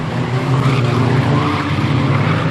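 A stock race car spins off at Standlake, tyres skidding and squealing over a loud, continuous engine roar, close and dense, with other cars' engines blending in.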